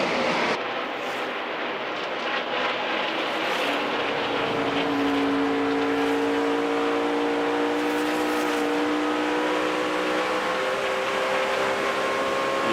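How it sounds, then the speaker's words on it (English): Dale Earnhardt Jr.'s NASCAR Sprint Cup race car at the 2008 Pep Boys Auto 500 roars under steady throttle from inside the car, a loud continuous engine drone whose pitch climbs and holds across the lap. "You hear that throttle as we ride shotgun with Dale Jr."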